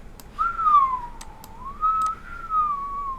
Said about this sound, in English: Keep whistling, keep whistling, keep whistling.